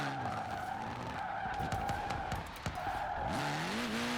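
Mini in Forza Horizon 4 skids with loud tire squeal and engine roar, then a sharp thud of impact before the engine revs back up.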